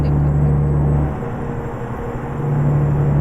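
A truck engine in the American Truck Simulator video game with realistic mods, a loud steady low rumble and drone that eases slightly midway, then swells back.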